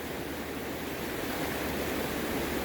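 Steady rushing water of the Klein River flowing nearby, a continuous broad wash of sound with no pauses, heard at a lunch stop on a backpacking trail.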